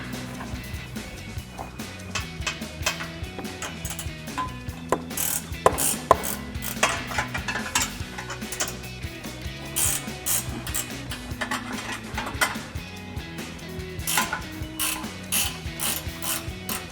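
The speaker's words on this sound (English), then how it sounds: "gonna take my 14 millimeter ratcheting wrench, get in here" A 14 mm ratcheting wrench loosens bumper bracket bolts on a 2014-2021 Toyota Tundra, giving repeated rapid clicking bursts of the pawl close up, with short pauses between strokes and no talking.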